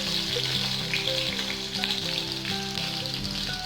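Green chilies frying in hot oil with mustard seeds and cumin, a steady close sizzle with fine crackling spatter and a low steady hum underneath, continuous throughout.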